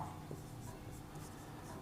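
A pen scratching on paper in a notebook, with soft continuous scribbling strokes close by against a low room hum, and a faint voice murmuring in the background.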